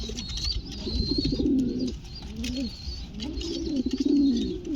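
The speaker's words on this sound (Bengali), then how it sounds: "দেখুন পায়রা চেতে গেছে, প্রচুর পরিমাণ চেত দেখাচ্ছে" Pigeons coo insistently in repeated throaty bursts, fairly close, with a few short chirps in between.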